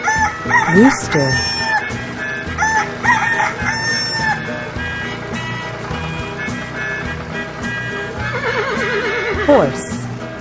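A horse gives a loud, wavering whinny late in the clip, over steady rhythmic background music, after a rooster-like crow near the start.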